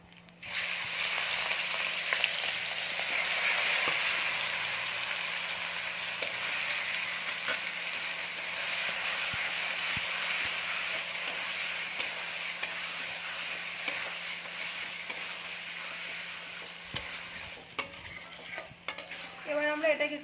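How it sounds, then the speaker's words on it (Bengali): Marinated katla fish hits hot oil tempered with black cumin, bursting into a loud, sustained sizzle that slowly settles, with occasional utensil taps and scrapes toward the end and no voices. "এবার আমরা মাছটার ঢাকনাটা খুলে তেলটার মধ্যে দিয়ে দেবো।"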